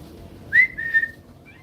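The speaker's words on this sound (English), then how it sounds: "Okay, I can't whistle nearly as loud like this." A person whistles a short two-part tune, a brief rising note followed by a steadier one, fairly clear against quiet background.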